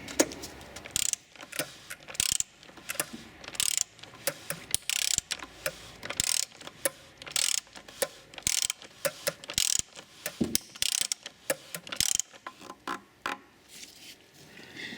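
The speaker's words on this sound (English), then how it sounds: "So next we're going to grab our torque wrench again. We're going to torque this up to the factory spec." Torque wrench ratcheting while tightening the oil filter housing on a Dodge 3.6 V6, a series of close, sharp clicks in irregular bursts with brief pauses between strokes.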